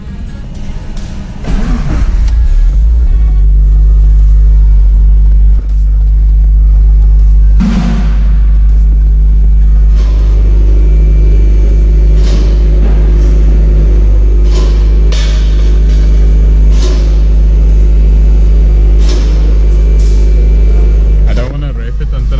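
Toyota 86 with a newly fitted catback exhaust cold-starting: a sharp crank and catch near 8 seconds, then a loud, steady elevated idle rumble, with a voice speaking briefly before it fires.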